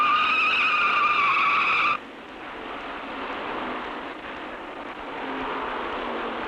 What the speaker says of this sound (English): Donnie Allison in car number 22 slid into the wall and ricocheted into the pursuing LeeRoy Yarborough.